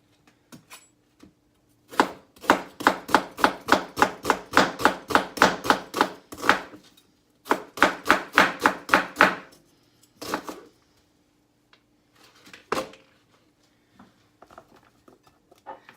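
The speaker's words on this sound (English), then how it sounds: "For our onion, we're just going to slice it very thinly." Knife thinly slicing an onion on a cutting board for a tofu stir fry: two long runs of quick, even chops close by, then a few scattered cuts trailing off with a faint background hum.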